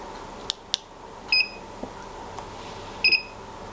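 A Xiaomi electric scooter gives two short high electronic beeps spaced well apart, clear and close over a quiet background, with a couple of faint clicks before them.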